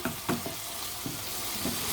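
Steady frying sizzle of diced boiled chicken pieces in a pan, with occasional soft clinks and stirring taps, fairly close and continuous throughout.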